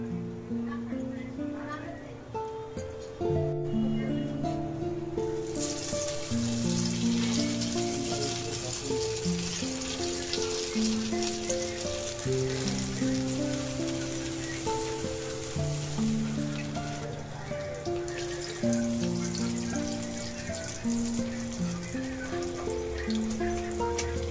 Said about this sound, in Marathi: आता आपण फ्राय करणार आहे.